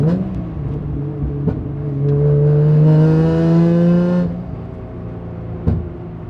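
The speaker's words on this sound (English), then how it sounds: "when you're driving, you got to have that good downshift noise" A Nissan Z33 350Z Fairlady Z engine blips and revs through a downshift, exhaust tone rising into a loud sustained drone before falling away, with a couple of sharp clicks and a thump at the end.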